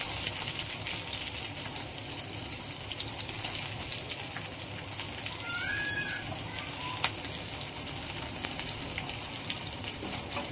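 Chopped green chillies frying in a little oil for a fenugreek and moth bean dish, giving a steady, dense sizzle that runs unbroken throughout, close and fairly loud, with a brief high squeak or mew partway through.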